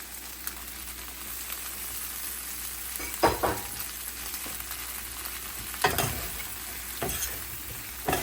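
Sweet peppers and onions tumble into a pan of shrimp sizzling over medium heat for Jamaican pepper shrimp, giving a steady close crackle with several louder stirring scrapes and clatters spaced a few seconds apart; no one talks.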